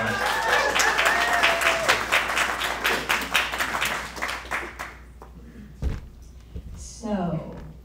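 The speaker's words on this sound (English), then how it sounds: "Let's give her a big round of applause." A crowd at a business funding event gives a speaker a big round of applause, loud and dense at first, then thinning into scattered claps before a voice begins speaking.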